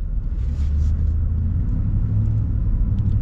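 A Ford truck with a 7.3L V8 engine cruising on the road, producing a steady, loud, deep rumble from the engine and road noise inside the cab, with no talk.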